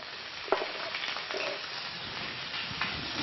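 Chicken supremes (poularde) searing in a hot pan give a steady, close frying sizzle with a few light clatters as the pieces are moved, no talking.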